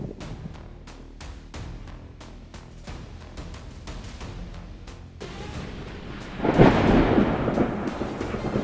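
Thunder from a lightning storm over Missouri rumbles steadily amid rain, then a loud, sharp crack booms out and rolls on as a heavy sustained roar.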